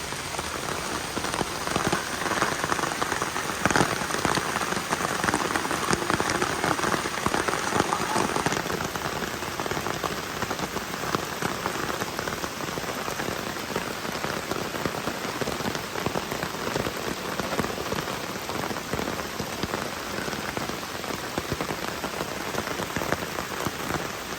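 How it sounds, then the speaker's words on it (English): Heavy rain pours steadily onto a taut tarp over a campsite at Port Burwell Provincial Park, a dense close patter with a few louder drips, unbroken for the whole stretch. "it is absolutely pouring rain. Totally pouring."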